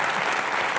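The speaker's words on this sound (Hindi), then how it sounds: "एक बार जोरदार तालियां।" Studio audience bursting into loud, dense applause on a Hindi comedy talk show, the clapping steady and close throughout a brief burst with no talk over it.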